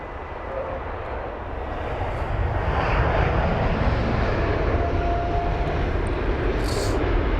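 An Aegean Airbus A321neo, three years old, roars past at London Heathrow, its engines building to a loud, steady broadband rush with no voices.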